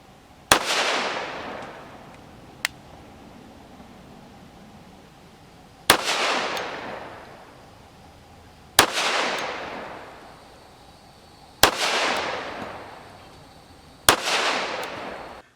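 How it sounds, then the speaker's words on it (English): Argentine Model 1927 .45 ACP pistol firing 230-grain full metal jacket ball ammunition outdoors, five loud sharp reports spaced a few seconds apart, each with a ringing decay, plus a faint click between the first two. "We're shooting full metal jacket. 230 grain ball."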